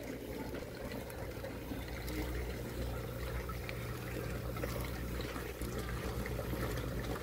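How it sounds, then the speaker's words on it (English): A plastic bag holding tilapia fingerlings is opened while submerged in an aquaponics tank, giving a continuous close wash of sloshing and bubbling water throughout. "Let's now open the bag."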